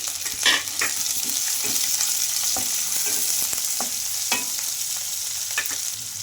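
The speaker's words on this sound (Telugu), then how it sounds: "మనకు ఆనియన్స్ అయితే కొంచెం కలర్ మారే వరకు అయితే ఫ్రై చేసుకోవాలి" Chopped onions and green chillies fry in a pan, a continuous loud sizzle with frequent stirring scrapes and small crackles throughout.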